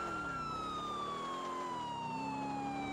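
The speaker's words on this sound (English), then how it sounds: "I just hear the ambulance getting louder." In a video game, an ambulance siren wails in a smooth continuous tone that slowly drops in pitch, with a low vehicle rumble underneath, sounding alone without voices.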